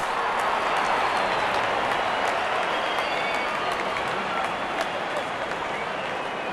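Cricket stadium crowd at a T20 World Cup semi-final between India and England applauding a batsman's fifty: a loud, steady roar of clapping and cheering from a large crowd, continuous throughout.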